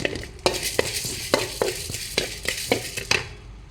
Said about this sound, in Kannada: ಈಗ ಒಂದು ಮೂರು ಚಮಚ ಕೊತ್ತಂಬರಿ ಕಾಳು ಹಾಕ್ಕೊಂಡು ಫ್ರೈ ಮಾಡ್ಕೊಳ್ಳಿ